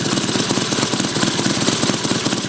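A Mini Hog 70 small engine runs steadily up close, its rapid, even chugging and knocking continuous and loud with no talk over it.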